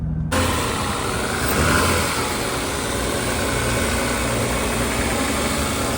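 A car engine cranks and catches, then settles into a loud, steady idle close by, with a brief swell in revs early on.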